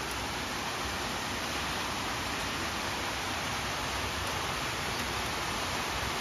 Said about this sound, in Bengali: দেখো কেমন জোর বৃষ্টি পড়ছে